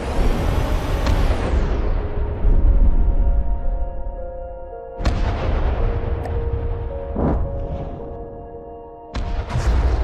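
Heavy guns firing in a video game, a few loud booming blasts with long rumbling decay over a sustained engine-like drone and tonal hum, no voices.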